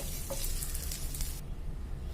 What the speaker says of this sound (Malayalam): അപ്പോൾ ആ ചിക്കൻ വറുത്ത വെളിച്ചെണ്ണയിലേക്ക് തന്നെ ഞാൻ ഒരു 2 സബോള, മീഡിയം സൈസ് സബോള അരിഞ്ഞിട്ട് കൊടുക്കുന്നുണ്ട്.